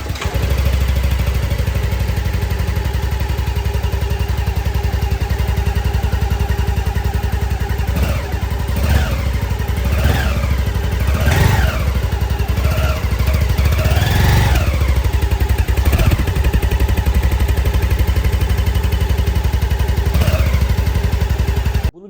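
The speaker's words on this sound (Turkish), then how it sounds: "biraz sonra zaten sesini de dinleyeceksiniz. Öyle özel bir şey var ki egzoz sistemi." A Lambretta G350 scooter runs with its special exhaust system, a steady close engine chug that rises in several short revs midway before settling back to idle.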